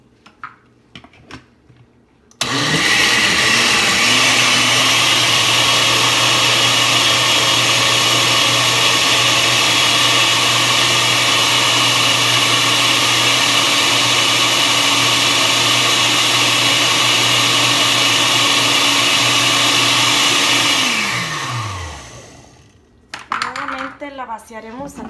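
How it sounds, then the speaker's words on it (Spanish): A kitchen blender grinds pineapple and kiwi with water for a chia agua fresca, a loud steady motor roar lasting about twenty seconds before winding down, with faint clatter at either end. "Le vamos a moler."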